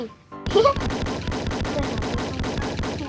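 Gunfire in a Roblox zombie-shooting game: a loud opening blast followed by a rapid, even stream of automatic shots lasting several seconds, with no clear speech.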